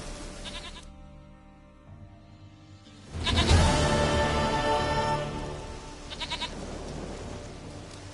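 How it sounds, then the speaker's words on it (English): A goat in The Witcher 3 game bleats in a few loud, wavering calls, the strongest a long quavering bleat near the middle, with quieter bleats at the start and near the end over soft ambient background. "Goat of mine, dearest, sweetest goat."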